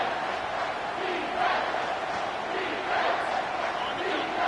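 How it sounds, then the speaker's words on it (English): A football stadium crowd roars behind the defense on a third down, a dense, sustained cheer swelling and falling in waves with no clear individual voices. "Decibels rising as the crowd gets behind this defense on third down."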